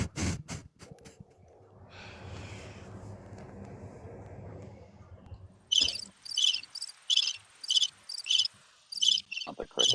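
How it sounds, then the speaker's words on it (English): A cricket chirps in quick repeated pulses, loud and close, after a stretch of low rumbling noise and a few sharp clicks at the start; no talk. "Not the cricket."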